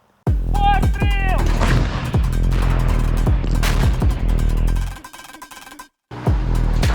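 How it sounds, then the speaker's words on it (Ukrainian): Several loud, sharp gunshots crack in succession with ringing echoes, amid noisy background and a brief pause before another blast. "Постріл! Постріл!"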